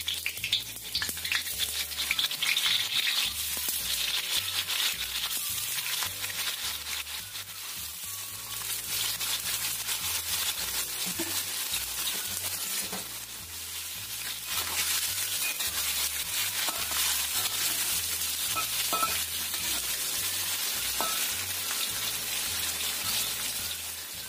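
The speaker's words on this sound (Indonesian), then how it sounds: "Ini kita panaskan minyak secukupnya. Kita goreng dulu tahunya itu, jangan terlalu matang ya." Tofu fries in hot cooking oil with a steady, dense sizzle and crackle throughout, close and fairly loud, with a faint repeating low hum beneath and no talking.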